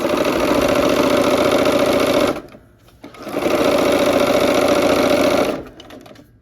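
Sewing machine stitching a quilt block, a fast steady mechanical whir running loud and close, pausing briefly midway, then resuming before trailing off.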